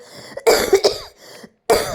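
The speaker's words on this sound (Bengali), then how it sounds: "কতদিন হলো জানো তো কাশিটা হয়েছে কমছেই না" Several sharp, close coughs come in quick bursts from a person with a lingering cough that won't ease, separated by short pauses and a brief silence, with no speech.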